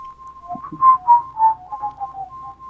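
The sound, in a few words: character whistling a song in video game Magician's Quest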